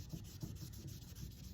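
Fine 2000-grit abrasive rubs over the head of a roughly 100-year-old brass hickory-shafted golf putter, a faint, steady scratching with a quick back-and-forth rhythm and no voices.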